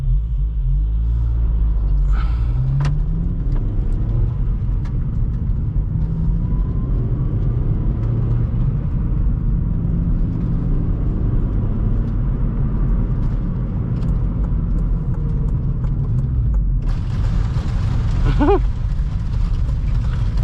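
An 8th-gen Honda Civic Si with a K20Z3 engine drives on 200-treadwear tires, a loud continuous low rumble of road and engine noise with gravel kicked up against the car, a few brief sharper sounds over it.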